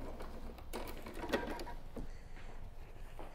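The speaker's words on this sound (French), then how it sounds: "on continue notre couture jusqu'à l'autre surpiqûre" A sewing machine topstitches a seam on a molded fabric face mask, giving a faint, quiet whir with short bursts of stitching and a brief stop.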